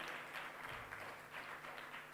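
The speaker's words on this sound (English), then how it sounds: "Come on, a big round of applause." Applause from a conference audience at a legal arbitration event on Indo-UK commercial disputes, a steady, moderately faint wash of clapping lasting a couple of seconds with no speech over it.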